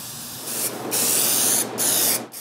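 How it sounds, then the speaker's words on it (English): A spray can hissing as red paint is sprayed onto wooden nutcracker heads, a loud, close, steady hiss in three long bursts with brief pauses between them, no talking. "I spray so much red that I have to use more than one spray can"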